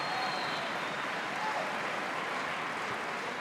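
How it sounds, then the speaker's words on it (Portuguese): A church congregation in Angola applauds in welcome, a broad, even wash of many hands clapping at a fairly soft, distant level for the whole stretch. "Então uma salva de palmas, dar boas-vindas ao Espírito Santo."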